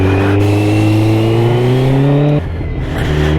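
A 2020 Kawasaki Z900 fitted with a Scorpion slip-on exhaust runs loud and close, its engine droning with a rising rev that suddenly drops back near the end, then holds steady.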